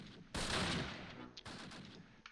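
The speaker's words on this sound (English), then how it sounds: "It does seem like they've kind of cut back on the shooting." Gunfire in the World War II tactics game Close Combat Last Stand Arnhem, Groesbeek Heights: a loud, sustained burst of shots, a short pause, then a second, slightly quieter burst, with no talk.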